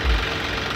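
Tractor engine idling up close, a steady low rumble with a slightly knocking, uneven texture running through the whole short moment, no talk over it.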